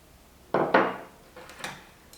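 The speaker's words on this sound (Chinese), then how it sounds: "充分的搅拌均匀" A utensil scrapes and clinks around a bowl as batter is stirred with sugar, two firm strokes followed by a few lighter knocks, close and clear without voices.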